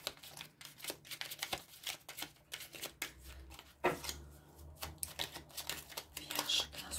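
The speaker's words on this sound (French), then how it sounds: "c'est des petites cartes, pas évident à brasser" Small tarot cards are shuffled by hand, with rapid papery riffles and flicks in irregular bursts close by, and a quiet voice speaking over part of it.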